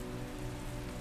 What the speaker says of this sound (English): even though it's raining outside